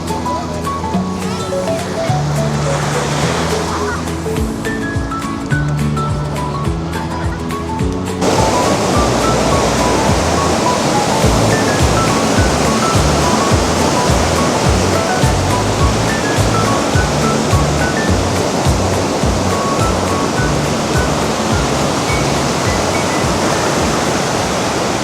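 Ocean surf rushes onto a Tenerife beach at Los Cristianos at high tide. A loud, continuous broadband roar swells and washes without break, growing fuller after the first few seconds, when some faint background sound gives way to the sea.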